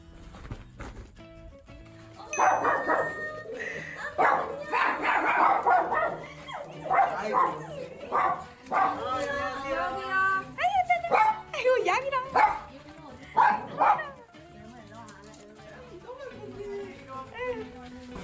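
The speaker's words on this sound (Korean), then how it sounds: "강아지 엄청 많아 지금." Several dogs in a home bark, yip and whimper in repeated bursts, fairly close and loud, mixed with people talking and laughing nearby.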